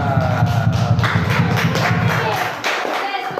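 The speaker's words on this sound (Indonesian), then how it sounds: "Berikan tepuk tangan." An audience at an indoor gathering in Riau applauds, a dense patter of many hands clapping close by that thins toward the end.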